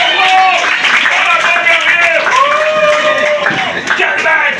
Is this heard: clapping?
yes